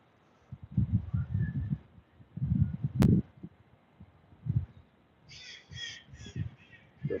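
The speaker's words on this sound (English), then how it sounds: "See that bird flying around." A crow caws outdoors in gusty wind, its harsh calls coming in several bursts over a steady wind rumble, with one sharp click partway through.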